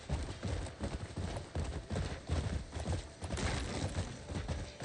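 Horse hooves clip-clop in a quick, steady rhythm in a video game, fairly close and dense with hoof strikes, with no talking over them.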